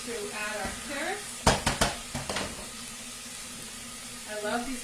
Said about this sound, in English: We're going to add our carrots.